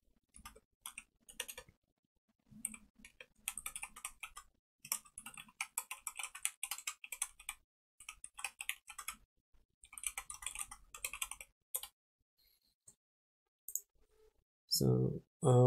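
Rapid clicking from a computer keyboard comes in fast uneven bursts and pauses while someone builds a Battleship game in Windows Forms and C#, close and fairly crisp, with brief talk at the end.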